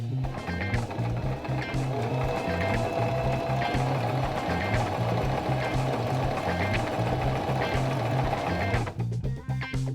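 A Singer mechanical sewing machine stitching an appliqué on fabric, a close, steady rhythmic whir with a regular needle beat running for most of the time, then stopping abruptly near the end into a few small clicks.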